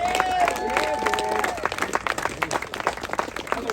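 A crowd at a downhill mountain bike race applauds, loose clapping mixed with murmuring voices and a faint high tone fading near the start.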